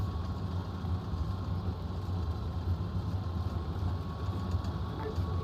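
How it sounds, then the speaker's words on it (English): Steady, loud engine drone from a military vehicle in a Desert Storm war game, a continuous low rumble with a faint tonal hum running unbroken throughout. "the engine is so loud"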